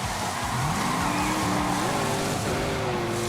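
Car engine at full throttle in The Grand Tour Game, a loud sustained roar that climbs steadily in pitch through the gears with a brief shift break, alongside faint tyre noise.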